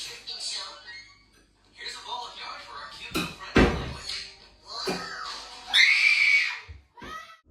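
Childlike scream caught in night recording inside a darkened house, a high, wavering cry rising around the middle and again near the end amid scattered knocks and rustles.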